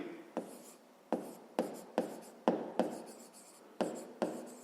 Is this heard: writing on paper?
yes